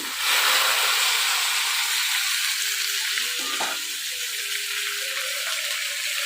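Mixed vegetables hit hot fish-frying oil seasoned with panch phoron, making a loud, continuous close sizzle that crackles steadily and eases slightly toward the end, with no voices.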